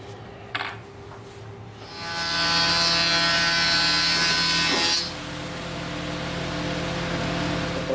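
An electric planer shaving an end grain wooden cutting board panel: after a couple of faint clicks, the motor whines up and cuts loudly for about three seconds, then drops back to a steady idling whir.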